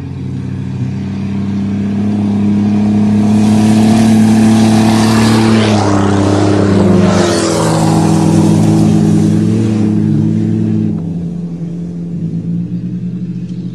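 Turbocharged Volvo 760 and Buick Regal race across a field, their engines roaring and revving in a swelling rumble that peaks mid-run, then fades as the cars pull away.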